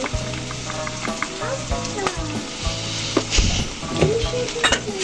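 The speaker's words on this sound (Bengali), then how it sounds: "ভালোভাবে ভেজে নিতে হবে" Noodles frying in a pan with chili powder, stirred throughout: a steady close sizzle with scraping utensil strokes and occasional clinks against the pan.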